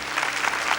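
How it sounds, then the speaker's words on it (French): A television studio audience applauds a child singer, a brief, thick burst of many hands clapping together, loud and continuous. "On va t'applaudir très, très fort."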